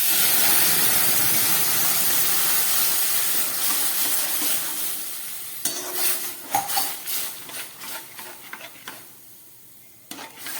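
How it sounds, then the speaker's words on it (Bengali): Milk poured into semolina frying in a pan for halwa sends up a loud hissing sizzle that gradually subsides, followed by scattered clinks and scrapes of a spoon stirring against the pan. "এবার আমি এর মধ্যে দিয়ে দিচ্ছি 2 কাপ মতো দুধ।"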